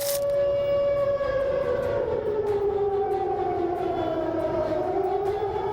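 A river flood warning siren in flooded Jakarta wails steadily, its drawn-out tone sliding slowly down and then rising again, loud and continuous with no talking.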